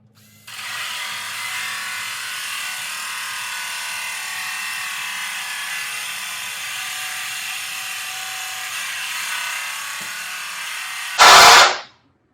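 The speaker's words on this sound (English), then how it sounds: "I tried to get all this done with my cordless, but I don't think it'll happen." A cordless drill whirs steadily and fairly loudly for about ten seconds while driving into a metal ammo can, ending with a sharp, louder burst just before it stops.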